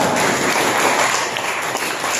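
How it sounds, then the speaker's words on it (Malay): A class or seminar audience gives a round of applause to a group of four presenters, steady dense clapping that holds evenly throughout. "kita bagi tepukan kepada yang benar"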